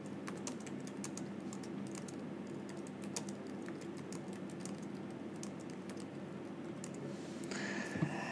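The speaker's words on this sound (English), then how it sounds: "you can start typing and that will create a text box" Rapid typing on a computer keyboard, quick irregular key clicks close to the microphone, with a faint hum underneath and a slightly louder tap near the end.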